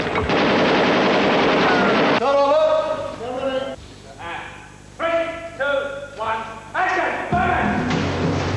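Bursts of gunfire on a GoldenEye film set: a dense opening volley gives way to shorter, separate rattling bursts, loud and close, with speech mixed in between.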